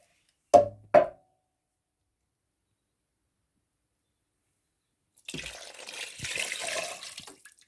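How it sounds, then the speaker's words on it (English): Water runs from a tap into empty tinned tomato tins in a kitchen, a close splashing pour lasting a couple of seconds after two short knocks and a long silence. "A good thing to do with your tinned tomatoes is just to add a little bit of water to your tins and just get everything out of there."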